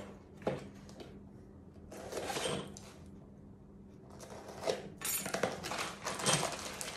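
New engine head bolts clinking as they are unboxed: quiet bursts of metallic rattling and clattering, separated by short pauses, close and fairly soft.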